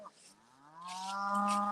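Cattle let out of the main pasture on a morning cattle drive give a single drawn-out moo, rising and swelling louder to its end, close by with no talk over it.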